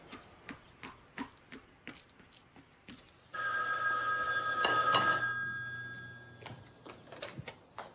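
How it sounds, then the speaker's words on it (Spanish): A telephone bell rings in a house for a few seconds, loud and continuous, with footsteps and small knocks before and after. "El teléfono."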